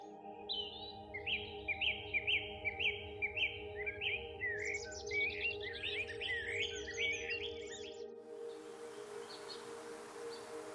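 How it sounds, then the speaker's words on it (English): A goldfinch and a warbler trade bright, rapid chirping calls in the Great Smoky Mountains woods, a quick run of repeated notes over faint steady background hum, fading out toward the end. "This goldfinch and warbler kept going at it."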